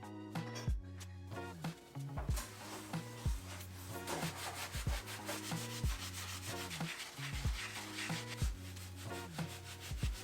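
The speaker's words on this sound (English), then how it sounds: "I tried rubbing alcohol onto a like dishwashing pad and rubbing it with the baking soda" Peel-and-stick tile adhesive is scrubbed with a dishwashing pad, rubbing alcohol and baking soda, giving a steady rhythmic back-and-forth rubbing with regular strokes, close but moderately quiet.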